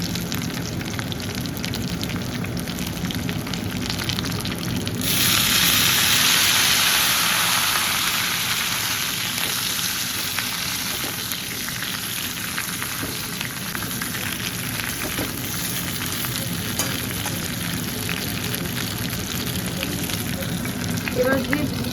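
Vinegar splashes into chilli chicken frying in a pan, setting off a loud burst of sizzling that swells and then settles into a steady, softer fry continuing to the end.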